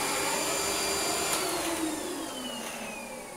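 A Hitachi CV-50D upright vacuum cleaner runs steadily with its hose drawing suction, a loud continuous motor whine with a high tonal pitch that slowly drifts, alone with no talk.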